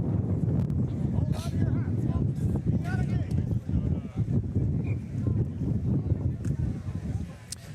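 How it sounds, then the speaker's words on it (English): A violent 60-mile-an-hour wind gust batters an outdoor microphone at a sailing tournament, a constant, loud, low rumbling roar that barely lets up for the whole stretch, with a voice mixed in underneath. "as I get blown away by a 60-mile-an-hour gust here"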